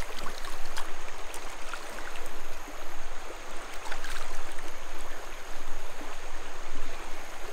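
Creek water flowing steadily and close by while a puppy is washed at the creek, a continuous broadband rush with no talk.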